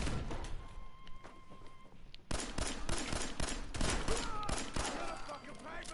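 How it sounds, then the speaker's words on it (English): A grenade blast in Fallout 4 that opens a loud barrage of explosive thuds and rapid gunfire, sharp repeated hits following a quieter stretch with speech. "Grenade!"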